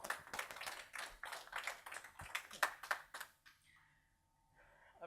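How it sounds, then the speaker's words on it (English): Audience at a Nagios World Conference applauding as the next speaker is introduced, a moderate burst of clapping for about three and a half seconds before it fades into quiet room tone. "How about a nice big round of applause for Jorge Higueros?"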